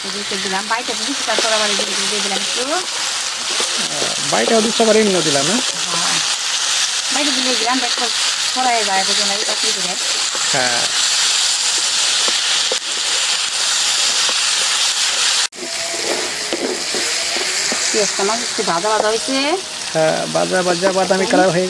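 Ginger and ground spice paste fries in a hot pan with a loud, steady sizzle and hiss that runs throughout, while a voice talks intermittently over it.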